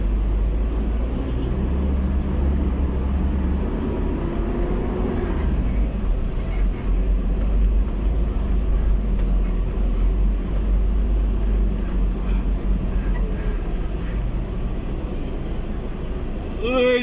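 Heavy road traffic in Makati, a continuous low rumble of vehicles passing and idling nearby, with a heavier engine swelling midway and faint voices over the din.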